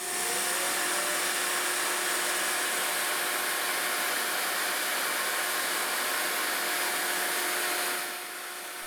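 A router fitted with a spiral cutter routes a guitar neck for a custom multi-scale Strat, giving a loud, steady high-pitched whine and hiss that holds constant before easing slightly at the end.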